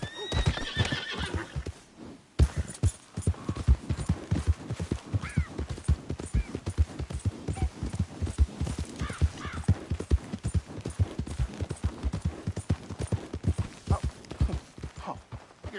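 Horse hooves in a PS4 video game, a rapid steady clip-clop of galloping hoofbeats running close and loud for most of the stretch, with a whinny near the start.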